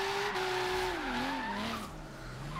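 A car drifts in the racing game Forza Horizon 3 after hopping a curb with its back tires, producing a loud, sustained tire squeal whose pitch wavers and slides downward over a steady engine drone.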